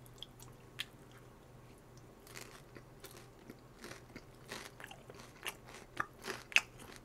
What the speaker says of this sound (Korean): 튀김옷이 되게 바삭해요